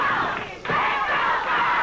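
An arena crowd roars and cheers at a professional wrestling match, a steady, dense wash of many voices heard from within the audience.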